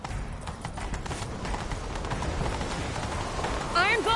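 Horse hooves gallop in a rapid, steady drumming through The Witcher III: Wild Hunt, over a noisy outdoor wash, with a short whinny rising just before the end.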